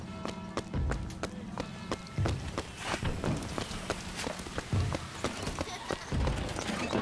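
Horse hooves clop in the Bioshock Infinite video game, a quiet, irregular series of thuds set among faint town ambience, with a voice talking over them throughout.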